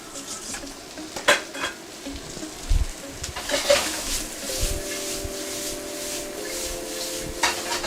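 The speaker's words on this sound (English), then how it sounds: "I'm giving those onions a quick toss." Onions tossed in a hot pan for Thai drunken noodles (pad kee mao), giving a steady sizzle with scattered scraping and clanking of a utensil against the pan, and a brief sustained tone late in the clip.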